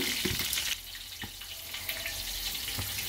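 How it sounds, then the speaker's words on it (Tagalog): Red grouper pieces frying in hot oil, a steady soft sizzle with a few faint crackles and clinks, heard alone at low level. "Habang nagpiprito"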